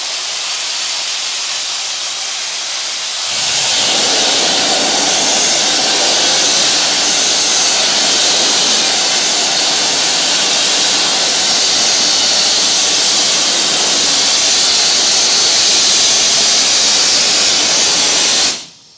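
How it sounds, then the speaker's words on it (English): A SCHMIDT Mini AmphiBlast blasting unit blows a steady, loud rush of air through its hose to dry it, starting abruptly after a few seconds of low rumble and hissing continuously before cutting off at the end. "I'm going to turn his pressure back up and run enough air through it to dry the hose"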